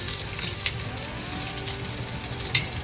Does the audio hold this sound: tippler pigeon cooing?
no